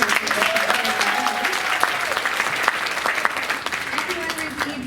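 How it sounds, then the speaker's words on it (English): An audience at the 2019 Langston Hughes Oratorical Contest prize presentation breaks into steady, even applause that holds for several seconds, with a voice speaking over the clapping. "So a round of applause."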